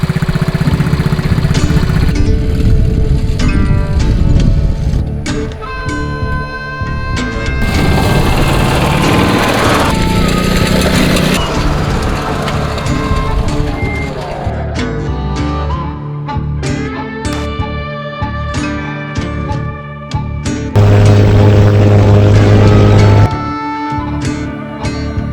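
Engine of an Avid Flyer STOL light airplane during takeoff, a loud steady droning propeller roar with shifting pitch that holds throughout, swelling louder near the end.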